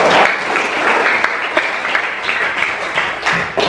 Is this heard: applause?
yes